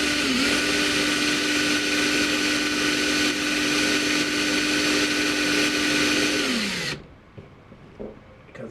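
A power drill with a regular bit whirs steadily at high speed for several seconds boring into a plastic model kit part, pitch dropping as it winds down and stops, leaving quiet handling noises.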